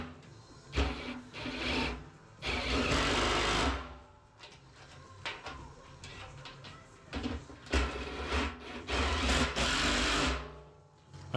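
A nut is tightened onto a bolt on a metal barrel stove kit, drawing the parts together: a run of loud, rattling metallic scrapes and clanks in irregular bursts, close by with no talking.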